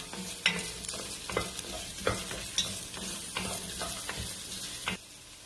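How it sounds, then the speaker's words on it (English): A spoon stirs Chinese beef noodle soup in a pot, giving repeated scraping and clinking strokes about every half second over a steady simmering hiss, close and moderately loud with no talk. "give it a stir"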